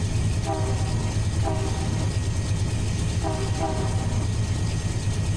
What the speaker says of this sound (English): Do a little horn, a little bit of bell.